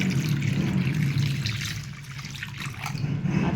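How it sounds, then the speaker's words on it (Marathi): Clean water poured over and trickling across small brass idols as they are washed during a morning puja, a steady close splashing dribble running for several seconds with no voices. "अजून एकदा चांगल्या पाण्याने आपल्याला देव स्वच्छ करून घ्यायचं"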